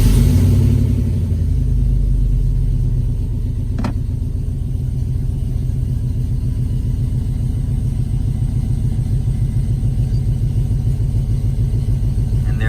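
A 2005 GMC Sierra truck engine cranks and starts, then settles into a steady, loud, rumbling idle that runs without a break. There is one brief click partway through.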